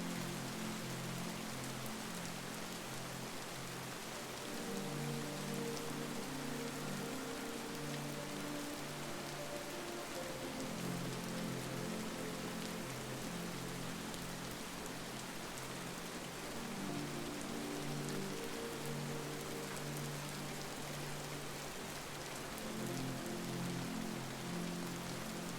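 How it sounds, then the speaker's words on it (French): Steady rain patters on a surface in a continuous, even hiss, with faint soft low tones drifting underneath throughout. "Laissez la pluie poursuivre sa mélodie."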